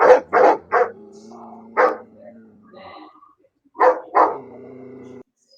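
A dog gives a quick burst of three sharp barks, pauses, barks once more, then two final barks with a faint whine trailing between them, close and loud.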